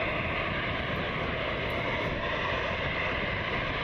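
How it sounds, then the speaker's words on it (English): Airbus A319 airliner on flight 3039 to Philadelphia at Cleveland Hopkins International, a steady, broadband jet roar that holds evenly loud and close throughout, with no voices. "This is flight 3039. It's an A319 heading to Philadelphia."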